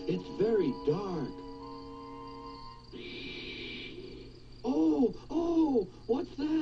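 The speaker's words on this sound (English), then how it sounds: "It was only an owl, but Percy didn't realize this." An owl hoots repeatedly at night in a children's story scene, the calls rising and falling over a steady chirr of crickets, with a voice speaking between them.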